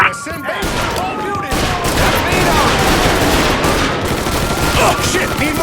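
Sustained gunfire in the video game Mafia III during a police shootout with a suspect: loud, rapid automatic bursts and overlapping shots rattle on without a break.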